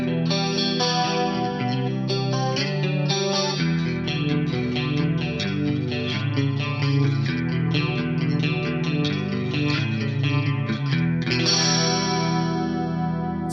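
Lush Axe-Fx III chorus modeled on the Boss Dimension pedal, spread over clean electric guitar chords and picked lines, loud and steady throughout with a shimmering, wide, doubled tone and no voices.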